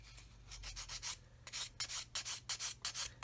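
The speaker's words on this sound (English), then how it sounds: "I'm only sanding in one direction" A flat sanding stick rubs over raised detail on a 1/32 plastic model aircraft kit, a Kitty Hawk OV-10 Bronco, stroking one way only: a soft, close rasp repeated in a steady series of short, evenly spaced strokes.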